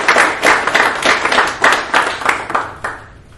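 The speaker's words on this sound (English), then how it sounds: "So can you please give Minister a round of applause?" Small audience at a professionals' forum clapping for a minister, a short, close burst of rhythmic hand claps that tapers off after a few seconds.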